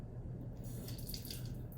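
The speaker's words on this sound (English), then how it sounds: "So now I have to add some water." Water poured into a container of fully submerged rocks during a density lab, a steady low wash of liquid running for a couple of seconds, faint and close with no talk.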